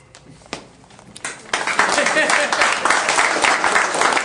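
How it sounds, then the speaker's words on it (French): Audience applause at a festive gathering swells after a few scattered early claps into dense, sustained clapping that fills the room, loud and continuous. "Merci beaucoup de m'avoir applaudi"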